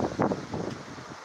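Gusty wind rumbles and buffets the microphone for about a second ahead of a coming storm, with light rain starting to fall.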